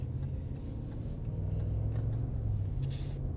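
A Ram truck with a 5.7L Hemi V8 and ZF 8-speed transmission pulls through its gears at highway speed, a steady low engine and road rumble heard from inside the cab without speech.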